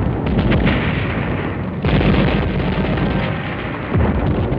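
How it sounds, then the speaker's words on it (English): Gasoline and motor-oil drums blowing up inside burning buildings across wartime Manila, a loud, continuous roar of dense blasts and rumbling booms with no gaps, two or three heavier surges rising through the din. "Barrels and drums of gasoline and motor oil were detonated by the Japs inside buildings from one end of Manila to the other"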